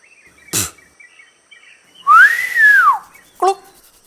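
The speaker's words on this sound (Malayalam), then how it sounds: "നീ എന്തിനാ ചൂളം വിളിച്ചത്" A person whistles a single rising-and-falling note that lasts about a second and sounds loud and clear. Short chirpy sounds come just before and after it, with no talking.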